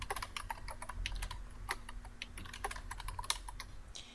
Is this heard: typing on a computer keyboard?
yes